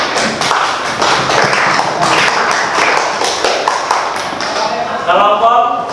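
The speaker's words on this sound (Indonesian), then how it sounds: "Beri tepuk tangan." Applause from a classroom group of teachers after a group presentation in an education coaching session, a dense steady patter of many hands clapping throughout, with voices rising briefly near the end.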